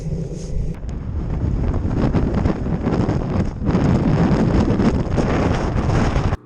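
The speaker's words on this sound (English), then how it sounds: "be a gentle ride downhill into that strong wind again" Strong headwind buffets the microphone on a downhill bicycle ride in bad weather, a loud, continuous roaring rush that swells and dips for several seconds with no talking.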